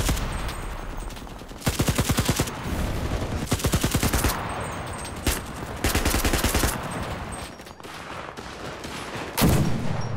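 Automatic AK gunfire in a Roblox WW2 shooter game comes in several rapid, loud bursts of evenly spaced shots, some long and some short, with single cracks between them.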